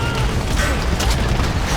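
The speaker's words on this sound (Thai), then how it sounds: "I've got mortar shells." Mortar shells explode in a combat video game, with loud, rumbling booms and blasts layered over continuous battlefield noise.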